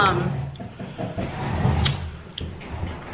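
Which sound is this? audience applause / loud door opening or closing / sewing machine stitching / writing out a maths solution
loud door opening or closing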